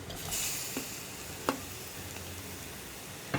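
Chopped tomato goes into a pan of sizzling spice powders for a brinjal (vazhuthananga) curry, giving a steady soft frying hiss with a few sharp crackles and a stirring scrape, close and fairly quiet, with no talk.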